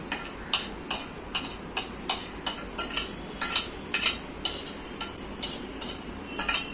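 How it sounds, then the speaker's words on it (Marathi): Modak filling of besan, coconut, milk powder, dry mawa and dry-fruit powder being stirred and roasted in a pan, with sharp regular scrapes and clinks of a spoon against metal, close and steady, roughly two per second. "बेसन कोकोनट, दूध पावडर आणि सुका मावा घेतला, ड्रायफ्रूटची पावडर, ती त्याच्यामध्ये घालूया आणि सारणाचा गोळा होईपर्यंत त्याला परतून घेऊया"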